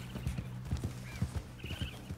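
Horse hooves clip-clop in a steady, quick rhythm as a rider moves along in Red Dead Redemption 2, fairly quiet and close, with a faint whinny-like tone partway through.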